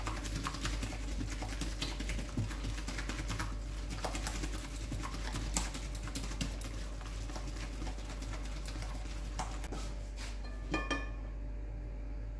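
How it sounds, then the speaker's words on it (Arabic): Eggs and sugar beaten together for a chocolate caramel cake, a steady whirring mixer running continuously with a rapid buzzing texture throughout, fairly loud and close, ending with a few clinks. "نضربو هاد السكر ديال البيض كما راكو تشوفو، نضربوه مزيان مع داك"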